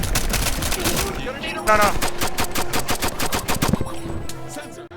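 Rapid bursts of gunfire crack out in a dense, rhythmic volley as a man opens fire on landlords, with sharp repeated shots and a brief ringing tone in the middle.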